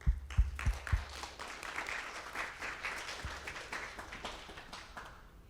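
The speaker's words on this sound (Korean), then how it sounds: "박수 부탁드립니다." Applause from the audience at a broadcasting forum opens with a few sharp nearby claps, then settles into steady, moderately quiet clapping that slowly tapers off.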